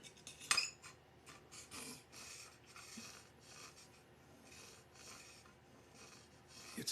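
A guitar saddle is rubbed flat against abrasive laid over two pieces of aluminum angle iron, making soft, faint rasping strokes in an irregular back-and-forth rhythm, with a sharper scrape near the start.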